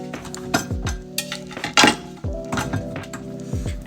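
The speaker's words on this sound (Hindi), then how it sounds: "अब इन चीज़ों को ज़रा इस बोल में ट्रांसफ़र करके एक बोल को दूसरे में कर दूँगी" Food items being moved from one bowl into another in a home kitchen, with repeated clinks and clatters of dishes and utensils, one louder knock near the middle, close by with no talk.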